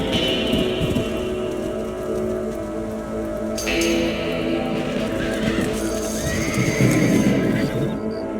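Horses neigh and whinny close by in the Red Dead Redemption video game, with clip-clopping hooves and a steady rain-like wash continuing under the calls throughout.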